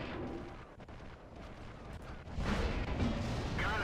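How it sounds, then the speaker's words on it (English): A Wespe self-propelled artillery gun fires in World of Tanks, a deep rumbling boom swelling up late amid steady low battlefield noise. "Sometimes I guess you just need to fire even though your shot's not accurate"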